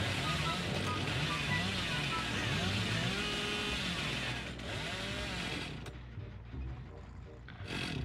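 The Hillbilly's chainsaw in the video game Dead by Daylight roars in a loud, continuous snarl that drops away near the end, with voices talking over it.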